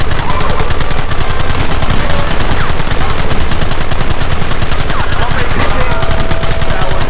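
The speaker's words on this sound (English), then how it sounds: "Open fire!" Continuous heavy gunfire from Red Dead Redemption: dense, overlapping rifle and machine-gun shots rattle nonstop and loud, a close, sustained firefight with no pause.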